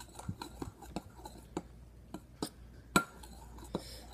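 Homemade slime being stirred in a bowl, a soft series of irregular clinks and taps of a utensil against the bowl, quiet and close, with one sharper knock near the middle and no talk.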